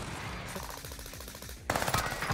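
Automatic gunfire in the video game Warzone, a quiet rattling burst of rapid shots that gives way to a louder, sharper volley near the end, with no talking.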